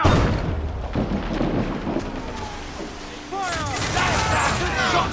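Ship cannons fire in naval combat in the video game Assassin's Creed Black Flag, booming broadsides mixed with wind and sea noise, with shouted commands from the crew over the battle.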